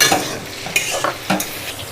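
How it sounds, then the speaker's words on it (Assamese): Finely chopped tomatoes fry in a pan for a kala chana (black chickpea) dish, with soft sizzling under a few scraping stirs of a spoon against the pan. "বিলাহীখিনি ভালকৈ ভাজি ল'ম"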